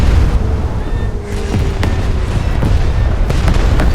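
Torpedo impacts and heavy naval gunfire in a German-navy warship battle game with the battleship Scharnhorst, a dense, continuous roar of booming blasts and rumbling explosions layered together, loud and close.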